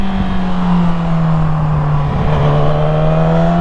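A Yamaha YZF-R6 motorcycle underway, its engine a loud, close, sustained high-pitched whine holding a steady tone with a slight rise near the end, heard alone with no talk.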